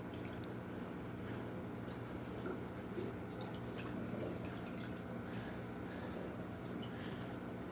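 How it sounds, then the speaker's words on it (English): An aquarium filter sponge is squeezed out during fish tank maintenance, leaving scattered drips and squishy trickles of water, quiet and close with no speech. "Squeeze that filter out, get that all nice and clean"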